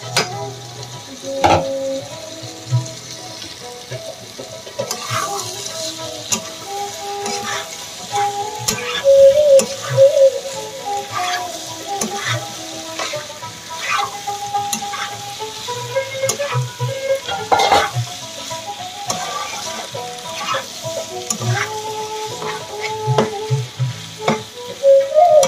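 Potatoes sizzle in rendered mutton fat for ghugni as a spatula repeatedly scrapes and stirs the pan, giving irregular clattering strokes over a steady frying hiss, close by.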